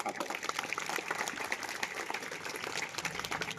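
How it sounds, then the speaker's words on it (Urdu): An audience claps for Saleem at a prize-giving gathering for top 10th and 12th grade students, a steady, faint patter of many hands lasting a few seconds without a break. "ایک بار زوردار تالیاں ہمارے سلیم بھائی کے لیے"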